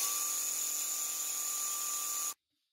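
Electric starter on a Yard Man 21-inch snow thrower that had been sitting, a steady high-pitched whining drone for about two seconds that then cuts off abruptly into silence, with no engine catching.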